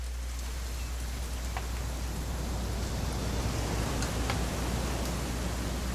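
Rain falls steadily in What Remains of Edith Finch, a continuous even hiss with occasional faint drop ticks and a low rumble underneath, with no voices.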